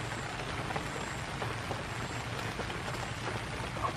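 Rain falling at a farm after a typhoon, a soft, even patter with scattered drops, quiet and steady throughout with no voices.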